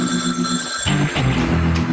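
Telephone ringing from a novelty lobster-shaped phone, a steady electronic ring tone sounding continuously and fairly loud, with a brief gap before the tone shifts, no talking over it.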